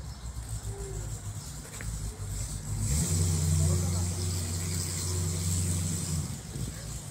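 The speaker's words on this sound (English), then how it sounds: "the cars will head out of town down this road" Cars pull away from a start line and head out of town along a road, their engines revving and droning from about three seconds on over outdoor ambience, with birds audible faintly in the background.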